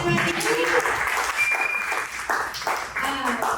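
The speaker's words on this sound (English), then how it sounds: "Give a round of applause for Ben." An open mic celebration crowd claps for a performer, scattered applause under loud talk and murmuring voices nearby.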